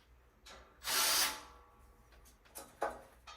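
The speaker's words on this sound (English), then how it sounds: "Grab my screwdriver and loosen this." A small power screwdriver or drill whirs in a short burst while loosening a screw on a metal platform bed frame, then a few brief, quieter whirs and clicks follow, close up.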